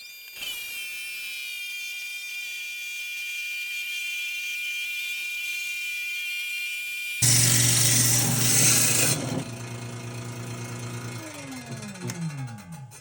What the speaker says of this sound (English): So let's cut it up and let's see what it looks like.